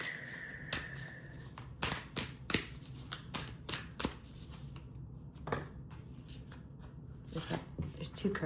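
Oracle cards being shuffled by hand in quick riffling bursts and soft rubbing strokes, close and crisp, with gaps between bursts and a faint quiet background.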